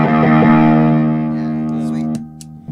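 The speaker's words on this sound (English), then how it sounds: "this is one of my oldest pedals. The Distortion Plus by MXR." An electric guitar through an MXR Distortion Plus pedal rings out with a loud, sustained distorted chord that slowly decays, then a few quiet string noises and a fresh pick attack at the end.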